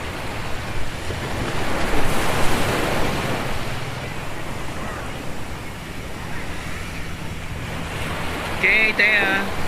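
Ocean surf rolls onto the beach at Boracay, a steady broad wash of breaking waves with wind buffeting the microphone, continuous and fairly loud, with a brief high squeak near the end.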